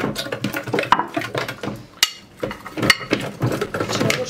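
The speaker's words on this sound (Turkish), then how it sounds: "Şöyle bir karıştırayım." Spoon stirring a meatball mixture with milk and garlic in a bowl, giving rapid clinks and scrapes against the bowl that run nearly throughout, with a brief pause midway.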